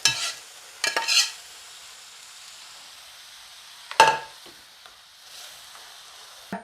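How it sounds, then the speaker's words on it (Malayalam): Dal tipped into a pan of fried cumin seeds and shallots gives a few sharp bursts of sizzle and clatter near the start and in the middle, then settles into a faint, quiet hiss. "ചെറുജീരകവും ചെറിയുള്ളിയൊക്കെ മൂത്തിട്ടുണ്ട് നമ്മുടെ പരിപ്പ് അതിലേക്ക് തട്ടി കൊടുക്കുക"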